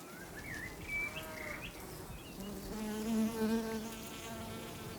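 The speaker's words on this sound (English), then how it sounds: "new arrival looks like a bumblebee, but it's a bumblebee hoverfly" A bumblebee hoverfly in an Alpine meadow gives off a low, steady buzzing hum that rises and falls slightly as it moves near, with faint bird calls drifting in from the background.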